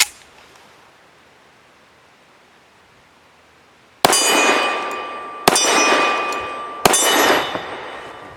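A Tisas Regent PC45 pistol fires Federal Hydra Shok low-recoil 165-grain rounds, three loud sharp shots about a second and a half apart after four seconds of near silence, each followed by a ringing decay.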